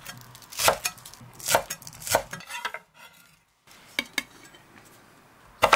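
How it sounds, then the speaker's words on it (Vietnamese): A few sharp knife strikes chopping green onion leaves on a chopping board, spaced irregularly with a short quiet gap, close and clear. "Rồi cắt nhỏ phần lá hành."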